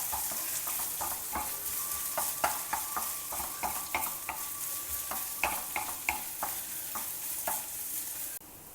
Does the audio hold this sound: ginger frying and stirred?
yes